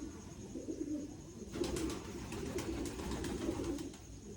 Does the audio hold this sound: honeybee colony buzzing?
no